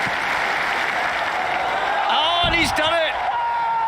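A stadium crowd at the 2021 Diamond League meet in Stockholm roars in a loud, sustained cheer as Renaud Lavillenie clears 5.92 m in the pole vault, with an excited commentator speaking over the swelling noise.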